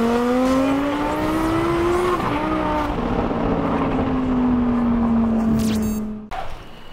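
A Porsche Taycan Turbo S launches hard, its electric motor whine climbing steeply in pitch, dipping briefly, then rising again as the car surges forward, loud and close, with road and wind rumble underneath.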